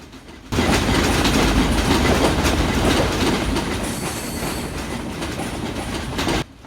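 The Parabat Express passenger rake is shunted at Kamalapur station in a train simulation game, with a loud, steady rumble of rolling wagons and rhythmic wheel clatter that starts abruptly, eases slightly toward the end and then cuts off.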